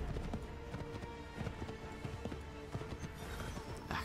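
A partially white horse in Assassin's Creed 3 gallops with a rapid, steady clip-clop of hooves, moderately close and continuous, set against faint game ambience.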